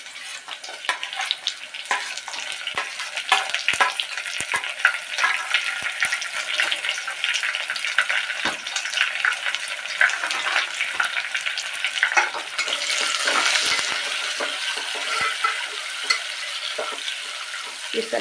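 Chopped onions frying in a hot pan for khara pongal, a steady dense sizzle that goes on throughout with occasional clicks of stirring, close and fairly loud, with no voices.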